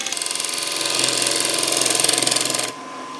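A rapid, steady mechanical rattling shudder comes from a wood lathe turning a wet, cracked closed-form bowl under light tool pressure, then cuts off abruptly near the end, leaving a quieter hum.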